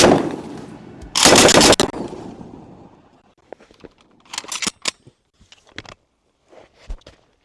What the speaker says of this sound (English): we have a Lewis gun